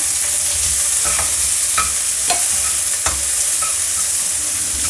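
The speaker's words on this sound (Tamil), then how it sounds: "ஆனியன் வந்து நல்லா வதங்கட்டும்." Onions sizzle and fry steadily in a hot pan, with occasional scraping stirs of a utensil breaking through the crackle.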